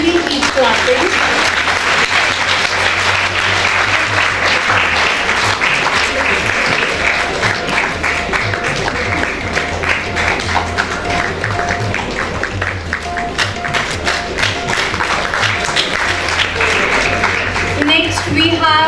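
Sustained, loud audience applause at a school awards ceremony, continuous dense clapping for almost twenty seconds with an announcer's voice and music-like tones running underneath.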